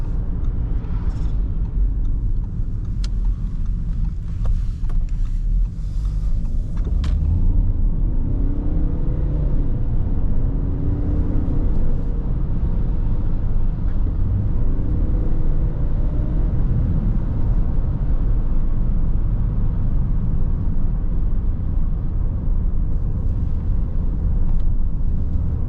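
A 2019 Audi A6 Avant 40 2.0 TDI with 204 hp driving in dynamic mode, its engine a steady, loud rumble from inside the cabin that rises in pitch as it accelerates, with no talking.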